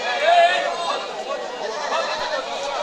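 Goats bleating amid the crowd at a busy livestock market for local goats, partly masked by the steady chatter of many people nearby.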